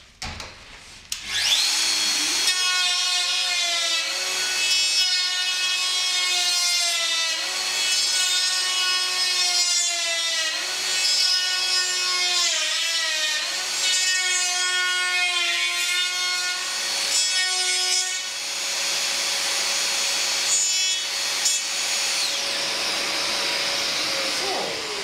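A hand router guided with a copy ring along a template, cutting single wooden teeth into a clamped workpiece, whines loudly and steadily with a strong harmonic tone that dips and recovers in repeated passes, close and alone.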